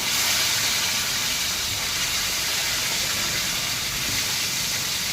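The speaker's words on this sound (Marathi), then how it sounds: "जिरे टाकले की लगेच आपण ही मॅरिनेटेड कोळंबी अशी फ्राय करून घेऊया त्याच्यामध्ये थोडीशी" Marinated prawns frying with cumin in hot oil, a loud, continuous broadband sizzle and hiss held steady throughout with no talk.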